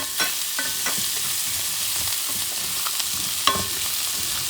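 Mushrooms caramelize in a hot pan while being stirred, a loud steady frying sizzle broken by occasional scraping and clattering strokes of the utensil.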